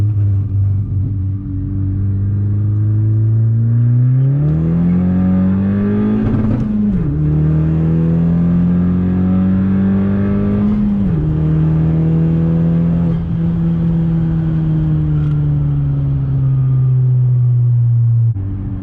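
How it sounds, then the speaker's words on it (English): A Honda fitted with rear motor mounts pulls hard in second gear, engine note climbing steadily with brief dips at shifts or lift-offs, loud and close throughout with no talking. "we'll do one last second gear pull"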